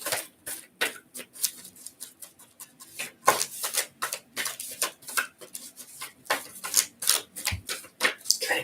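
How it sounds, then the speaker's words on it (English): Cards riffle and snap in quick rustling bursts, close and crisp, repeated over and over in a quiet room with no talking. "Give it a good shuffle."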